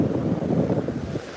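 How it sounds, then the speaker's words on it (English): Strong wind on a beach buffets the microphone in a steady low roar, with surf rumbling underneath. The sound is close and continuous and no one is talking. "the wind is loud today"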